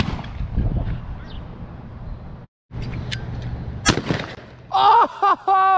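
Shotgun blasts while hunting pigeons on a dairy farm: a few sharp, loud bangs amid outdoor background noise, followed by excited shouting and whooping from people nearby.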